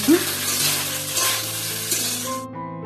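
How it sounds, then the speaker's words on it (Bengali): Leftover rice frying into fried rice in a pan at home, a steady close sizzle with stirring scrapes, heard alone. "এই যে এটা এখন রিমা এখানে ভাজছে"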